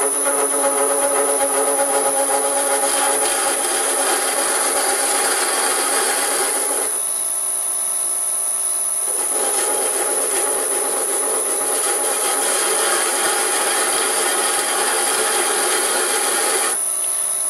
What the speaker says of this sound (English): That's not cutting, that's rubbing.